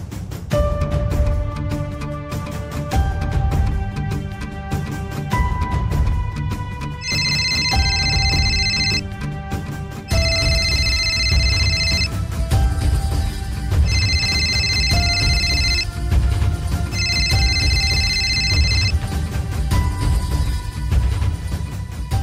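A telephone rings in a home scene of a Marathi TV serial as a call is placed, giving four repeated bright ringing bursts over steady background music.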